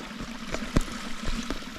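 A flowing creek along the Ouachita Trail trickles and splashes close by, with a few sharp burbling spurts over a steady low water wash.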